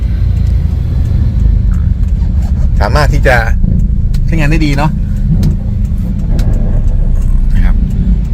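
Low, steady rumble of a Toyota Fortuner 2700 cc SUV engine running on LPG while driving, heard from inside the cabin, with someone talking over it in short bursts.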